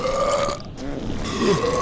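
A single drawn-out burp from a button in the video game The Long Drive, loud and close, croaking with a wavering pitch over a low game background hum.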